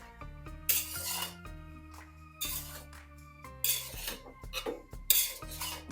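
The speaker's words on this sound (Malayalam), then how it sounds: "ഇതൊന്നെല്ലാം കൂടെ മിക്സ് ചെയ്യാം" A spoon scrapes and clinks repeatedly in a pan as potato rice with lemon juice is mixed, the gas turned off; the scrapes come in uneven bursts over soft background music.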